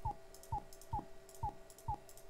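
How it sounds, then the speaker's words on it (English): Windows 95 Microsoft Plus! theme click played on opening a program: a short two-part mechanical click with a tonal blip, repeated evenly about every half second, crisp and quiet, with nothing else underneath. "if we open up a program, you get that nice clicking kind of sound there"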